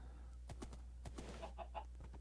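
Chickens cluck in the Islandcraft video game, a run of short, moderately close clucks scattered over a steady low background hum, with no talking.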